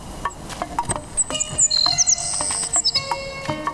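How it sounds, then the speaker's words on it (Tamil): In a film scene, a small bird calls with rapid, high, repeated chirps and whistles, close and clear, over a faint insect-like background hum. "என்ன குருவி இது? கேட்குது ஆனால் பார்க்க முடியல."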